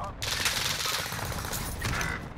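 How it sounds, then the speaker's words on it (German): Video game enemies fire a dense, continuous volley of gunfire at the player, loud and unbroken throughout with no pauses between shots. "Warum schießen die jetzt auf mich?"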